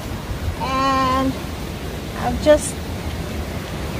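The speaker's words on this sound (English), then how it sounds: "it's flooding, raining, stormy today" Stormy rain and wind on a flooding day form a constant broadband roar, with a voice speaking briefly over it.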